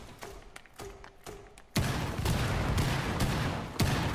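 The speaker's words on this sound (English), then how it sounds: "this last cluster over here exploded right on my ping" Fuze's cluster charge in Rainbow Six Siege, setting off a string of sharp thumps followed by a dense, rumbling barrage of explosions, with a final loud blast near the end.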